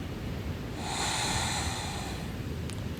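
A single slow, audible breath drawn through the nose during yoga practice, heard close and breathy against a faint, hissy background.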